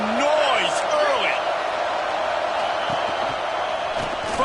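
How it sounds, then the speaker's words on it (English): A large stadium crowd at a Texas A&M vs Tennessee college football game roars loudly and steadily throughout, with scattered whistles and shouts rising out of the dense wall of noise. "Crowd bringing the energy and noise early."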